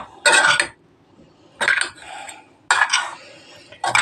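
A utensil stirs thyme, black pepper and chili flakes into food in a pan, giving four separate bursts of scraping and clinking with quiet gaps between them, close and fairly loud, with no talking.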